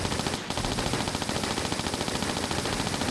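Rapid automatic gunfire in Tomb Raider 4 rattles on at a steady fast rhythm, loud and near, with a brief gap just before half a second.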